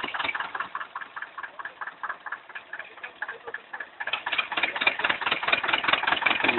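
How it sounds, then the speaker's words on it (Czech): A freshly overhauled Zetor 25K tractor engine idles nearby with a steady ticking, knocking rhythm. Its note grows louder and denser about two-thirds of the way through, with no talking. "A už nám pěkně běží."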